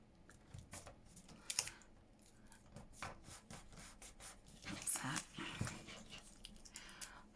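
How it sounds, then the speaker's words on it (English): A Tim Holtz cutting tool works along one side of a decorated postcard, giving soft scraping and rubbing strokes at close range, quiet and uneven, with a couple of sharper bursts and no speech. "get the top lined up so you only have to cut one side."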